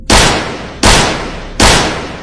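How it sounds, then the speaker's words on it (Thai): Three loud, sharp gunshots spaced evenly apart, each with a booming attack and a lingering decaying tail, no voices. "เสียงปืนจากตำรวจดังขึ้นรัวไม่หยุด"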